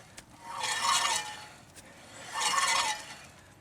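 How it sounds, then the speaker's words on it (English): Two drawn-out metallic scraping sounds from a Pontiac Grand Am GT's brake, each about a second long, like a brake rubbing, separated by a brief pause. "It might just be the brake."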